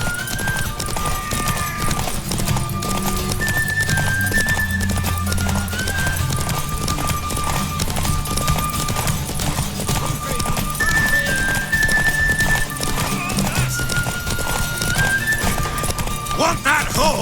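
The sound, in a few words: horse galloping and neighing in video game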